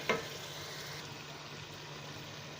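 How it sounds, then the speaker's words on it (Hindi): Mutton frying in a pot for Sindhi pulao gives a soft, steady sizzle, faint and even, with a brief clatter at the start and no voices. "अभी इसको थोड़ा सा और भूनेंगे, उसके बाद मैं इसमें दही डालूंगी।"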